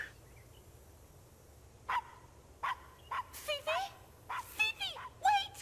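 Small dogs bark at a party in the video game Blue Estate, a series of sharp yips and barks that starts after a quiet stretch and then comes in quick clusters over a low background hum.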